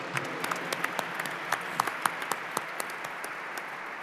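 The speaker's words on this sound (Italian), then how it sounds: "Direi che possiamo fare un applauso ai nostri ospiti" An audience at a public dialogue with an archbishop claps for the guests. The applause is moderate and fairly sparse, with distinct individual claps standing out against a softer background of clapping.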